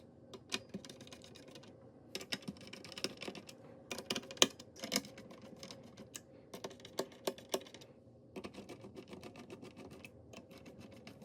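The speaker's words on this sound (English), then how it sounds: "Remove the 4 screws securing the heatsink to the motherboard." A screwdriver removes the screws holding the heatsink to a Lenovo ThinkCentre M93p Tiny motherboard, giving close, dry, irregular clicks, ticks and scrapes in short bursts with brief pauses between them.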